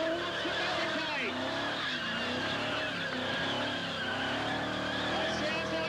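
A 351-powered Ford XD doing a burnout at a car club event, its tyres squealing in wavering, sustained howls over a roaring engine, with a crowd and commentary mixed in throughout.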